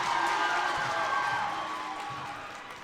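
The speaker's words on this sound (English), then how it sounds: "So the crowd just went wild" A wrestling crowd at a 2016 Milton versus Stoughton match roars wildly after a fireman's carry takedown, a loud, dense wash of cheering that slowly fades over a few seconds.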